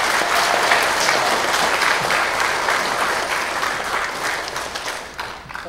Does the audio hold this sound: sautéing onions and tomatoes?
no